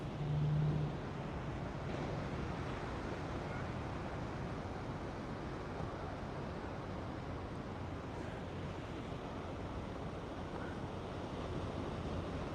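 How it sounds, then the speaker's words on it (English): Ocean waves breaking in a steady, continuous wash close by, mixed with wind rumble across the microphone and no clear voices. "Now you hear the sound of the ocean"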